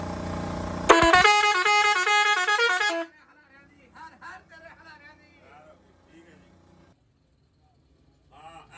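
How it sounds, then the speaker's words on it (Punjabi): An electric, compressor-powered bus horn blares loud and close for about two seconds, with a steady, harmonically rich tone. After it cuts off, people talk quietly amid faint background noise. "ਇਹ ਕੰਪਰੈਸਰ ਕੋਲ ਪਿਆ ਈ ਇਲੈਕਟ੍ਰਿਕ ਆ ਵੇਖ ਇਹਨੂੰ ਕਰੰਟ ਲੱਗਾ ਈ ਤੇ ਇਹ ਹਾਰਨ ਵੱਜਣ ਲੱਗਾ ਈ"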